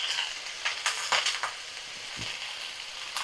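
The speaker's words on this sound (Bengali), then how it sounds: "তো সব পালং শাকগুলো আমি দিয়ে ভালো করে দেখো নাড়াচাড়া করে নেব" Spinach being stirred in a frying pan with salt, giving a steady sizzling hiss broken by soft scraping and rustling sweeps of the leaves.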